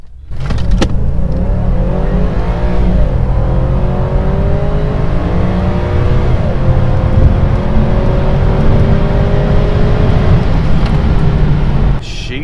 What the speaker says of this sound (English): we're gonna do a standing start acceleration test so you can see what this old girl's got